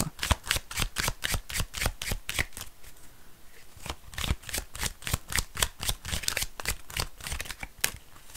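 Tarot de Marseille cards shuffled by hand in rapid repeated riffles, a crisp rhythmic flutter of slaps close up with a brief pause midway before the rapid shuffling resumes.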